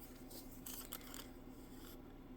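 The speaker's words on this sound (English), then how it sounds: "so I'll just take my scissors" Scissors trimming paper for a layered envelope flip card, a few short crisp snips and rustles close by over steady room hum.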